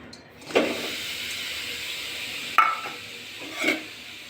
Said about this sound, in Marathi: आता आपण त्याच कढाईमध्ये गुळ घालूया